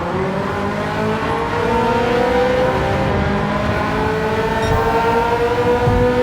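Race cars on sports tires engine-roar through a close pack in the Gran Turismo 7 racing game, several motors droning and revving together continuously at steady loudness, with rising and falling pitches and no talk.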